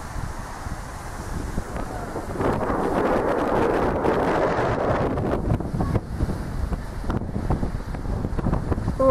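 Wind blowing by the sea on a warm day with northwest waves, roaring steadily into the microphone as a rough broadband rush that swells in the middle and stays loud throughout, with no voices.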